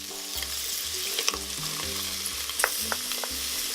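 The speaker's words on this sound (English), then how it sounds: "I'm going to saute the onions and the garlic together." Onions sizzling and frying in oil inside an Instant Pot on sauté mode, a steady close crackle with occasional stirring clinks and scrapes, no voices.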